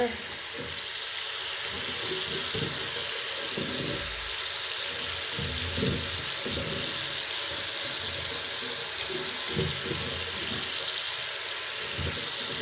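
Fresh water streams steadily from a tap, a continuous bright hiss heard close, with faint low thumps and murmurs underneath.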